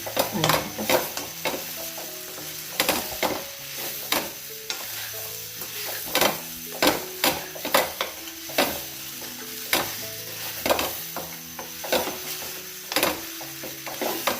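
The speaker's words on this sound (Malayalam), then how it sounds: "നന്നായി വഴറ്റിയെടുക്കുക." Masala for a green mango chutney sautéed in a pan, a continuous sizzle with regular rhythmic scraping strokes of a spatula, close and fairly loud, with no talk.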